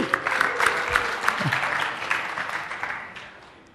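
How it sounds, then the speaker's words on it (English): An audience at a conference session breaks into applause, a burst of clapping that is lively at first and gradually thins and fades toward the end. "Give yourself a big round of applause."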